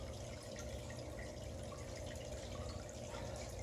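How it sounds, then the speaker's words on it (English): Water from a siphon hose drains into a bucket as a steady, close, continuous splashing trickle with a broad wash of noise and no pauses. "I tilt it up so all the water drains down into my bucket"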